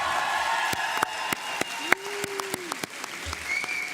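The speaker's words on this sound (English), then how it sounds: "a big round of applause for everyone" Sparse audience applause at a college commencement ceremony, with scattered distinct claps and a soft crowd murmur, plus a brief whistle-like tone and some faint voices.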